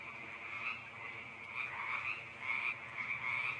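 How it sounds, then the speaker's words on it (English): Frogs croaking at night as a sound effect, a dense chorus of rhythmic croaks and trills pulsing continuously at moderate loudness with no talk. "all you do is hear some frogs as you sleep in the night"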